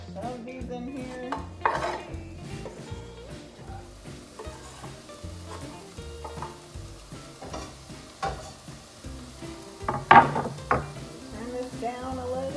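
Eggs for huevos a la Mexicana sizzle and fry in a hot skillet, a steady crackle broken by occasional scraping and clinks of a utensil against the pan.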